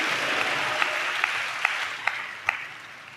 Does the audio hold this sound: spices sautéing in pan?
no